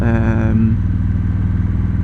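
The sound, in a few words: Victory motorcycle big engine with performance exhaust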